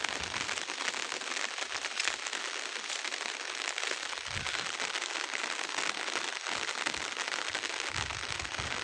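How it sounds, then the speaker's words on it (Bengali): Rain begins falling on the Bhairab river during low-pressure weather, an even, constant hiss with fine crackling droplet patter throughout, no voices. "বৃষ্টি শুরু হয়ে গেল।"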